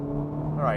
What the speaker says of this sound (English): what you're hearing is a synthesized engine sound.